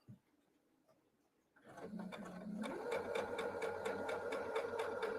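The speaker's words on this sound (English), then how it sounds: "We are going to turn it on, okay? We've turned it on. And we're going to sew." A sewing machine is switched on after a quiet start, then runs in a steady, rapid mechanical stitching whir that grows fuller and holds near and moderately loud to the end.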